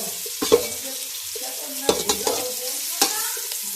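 Cabbage being stirred in a frying pan, a soft steady sizzle broken by several sharp scrapes and knocks of the spoon against the pan, close up and with no talking.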